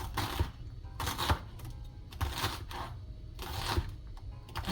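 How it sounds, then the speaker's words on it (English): Callaloo leaves being sliced very thin with a knife on a cutting board, a quiet run of close, soft rhythmic chops and scrapes coming in four short clusters. "So I'm going to cut it on my cutting board and take it over the other side."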